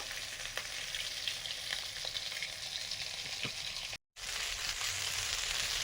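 Continuous loud sizzle of meat frying in hot oil without turmeric, steady and close, with a brief dropout near the end.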